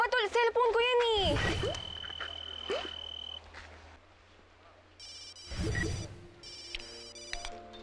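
A cellphone rings in bursts of bright electronic tones near the end. It comes after chirpy, croak-like sounds and thumps, and brief voices are heard.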